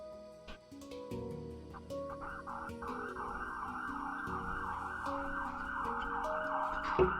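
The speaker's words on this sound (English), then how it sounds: "You guys enjoying the sound of those sirens?" Emergency vehicle sirens wail outside in a city, a steady rising and falling tone that holds loud and continuous throughout, with traffic rumble underneath.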